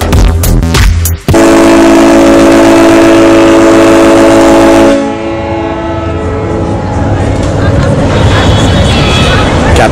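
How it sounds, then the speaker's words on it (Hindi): A very loud, sustained train horn blares close by for several seconds in a Chicago rail yard, then gives way to the rumble and clatter of rail cars moving. "बार बार हॉर्न बज रहा है कि आगे पीछे कोई है तो वो यहाँ से हट जाए"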